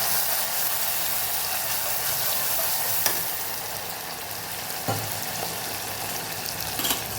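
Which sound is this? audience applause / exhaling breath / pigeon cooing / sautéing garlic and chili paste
sautéing garlic and chili paste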